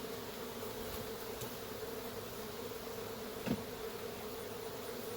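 Honeybees from a large, opened hive drone in a steady, close buzz that holds an even pitch throughout, quiet overall with one brief louder pass near the end.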